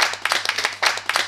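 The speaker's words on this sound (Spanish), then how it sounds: "Fuertes aplausos para Marbella." Audience applause at a Marbella community event, a loud burst of uneven hand claps with irregular spikes, close and continuous for the whole stretch.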